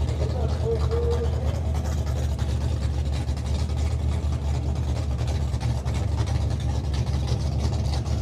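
A racing engine holds a loud, steady low rumble that drones continuously without clear rises in pitch, with outdoor noise mixed in throughout.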